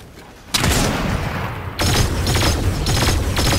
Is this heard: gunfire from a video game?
yes